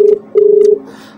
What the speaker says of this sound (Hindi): हमारे साथ फोन की घंटियां बज रही हैं